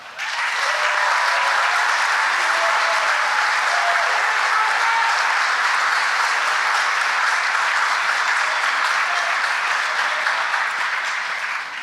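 Sustained applause from a standing audience honoring award recipients at a 2019 honors ceremony, a steady, even wash of clapping filling the whole stretch.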